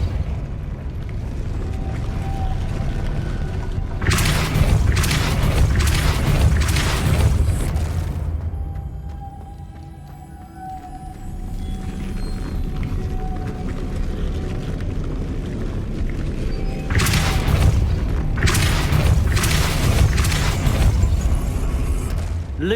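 Depulso spell cast in Hogwarts Legacy, heard as deep booming bursts with a rushing whoosh, a few loud blasts over a rumbling ambient bed, some far apart.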